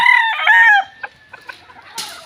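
A chicken at a gamefowl farm gives a loud drawn-out squawk close by, followed by a few short soft clucks at uneven intervals and a brief rustle.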